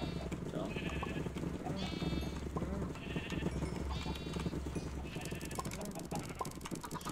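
Several sheep in the Minecraft modpack RLCraft bleat in turn, overlapping cries spread across the scene with game ambience and soft clicking movement while someone talks.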